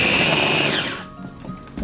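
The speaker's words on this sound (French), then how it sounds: "On va le faire en 2 fois parce que le mixeur risque de pas être assez grand." A kitchen blender whirs loudly while mixing ingredients for kimchi paste, a steady high motor whine that drops in pitch and winds down toward the end.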